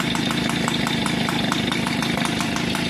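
A Peugeot 103 moped running on its original carburetor and original exhaust with the baffle removed, the ignition timing advanced to 2 mm before top dead center, idles in a fast, even buzz with a regular ticking pulse, close and steady, with no talk.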